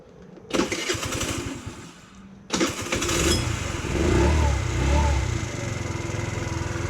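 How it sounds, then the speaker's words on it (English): A GY6 Chinese scooter engine cranks briefly, pauses, then catches on a second attempt and settles into a steady, loud, close idle with a slightly uneven putter; no one speaks. "What I'm going to do now is I'm going to start the scooter."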